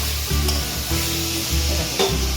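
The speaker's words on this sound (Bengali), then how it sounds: "দিয়ে এবার একটু ভেজে নিই ভালো করে। খুব ভালো বেশি ভাজবো না, হালকা একটু ভেজে নেবো।" Okra frying in a pan with a little salt and turmeric, sizzling steadily close by while a utensil stirs it in a few distinct scraping strokes; no voices.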